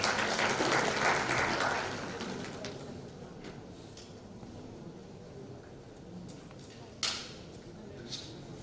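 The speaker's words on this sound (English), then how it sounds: "A huge round of applause," Audience at a textile conference giving a brief round of applause that fades within two seconds, leaving a quiet hall with a few scattered claps.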